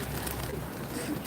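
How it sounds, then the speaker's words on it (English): Pigeons over a London square, soft cooing and faint fluttering against a steady outdoor city hum, fairly quiet and distant. "Pigeons flying over."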